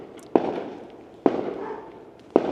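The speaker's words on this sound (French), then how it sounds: "je ne sais pas si vous entendez les pétards" Firecrackers burst outdoors in a Playa Blanca setting, three sharp loud cracks spaced about a second apart, each trailing off into a fading rumble with no talk.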